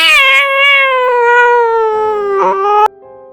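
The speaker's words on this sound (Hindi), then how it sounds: "थोड़ी देर बाद बाहर एक बिल्ली के रोने की आवाज़" A cat cries loudly and close, one long drawn-out wailing meow that bends downward before cutting off abruptly, eerie in tone for a horror story.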